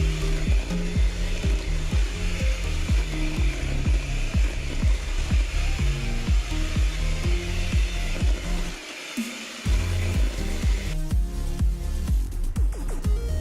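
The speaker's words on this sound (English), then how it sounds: "I am creaming the sugar with the butter, and I'm trying to get it as fluffy as possible" Electric stand mixer creaming sugar and butter for a Trinidad and Tobago black Christmas fruit cake, a steady continuous whirring motor with rhythmic beater rumble, close and loud throughout, with a brief dip near the end.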